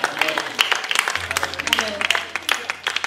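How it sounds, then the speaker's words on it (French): Church congregation clapping for children at a Sunday service, a brisk patter of hands from a modest group mixed with murmuring voices and a low steady hum. "On va applaudir ces enfants parce qu'ils ont vraiment beaucoup adoré le Seigneur"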